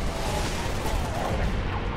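Dense, continuous rifle fire from Halo: Spartan Assault, a steady wash of overlapping shots and explosions with no clear gaps, loud and close throughout.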